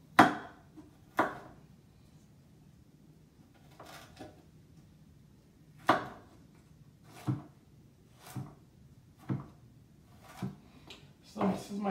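A knife chops fresh ginger into tiny pieces on a board. Sharp, close taps come in uneven bursts with short pauses between them.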